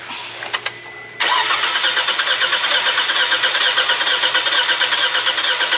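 A 2017 Hyundai Tucson engine is cranked during a compression test: a few short clicks, then a steady loud rhythmic cranking whir that continues evenly to the end.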